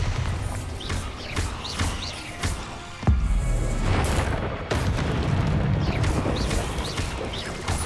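Bombarda and Confringo spells burst one after another in Hogwarts Legacy, a string of booming magical blasts with a heavy thump near the middle, some cast amid battle noise.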